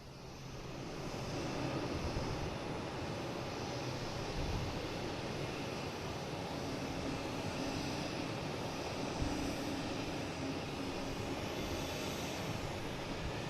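An Embraer E175 jet airliner, flight 8611, produces a distant, sustained engine roar that swells slightly and holds steady for several seconds, no voices.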